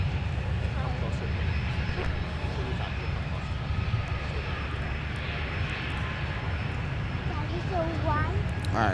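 An airliner's engines drone steadily on a runway at Minneapolis–Saint Paul airport, a continuous loud rumble throughout while a voice talks over it.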